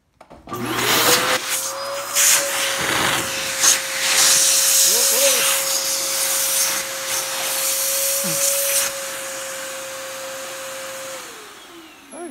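An Eureka Rally 2 vacuum cleaner starts up into a loud, steady whine with a rushing hiss of suction, holds it for several seconds with slight shifts in pitch, then winds down near the end.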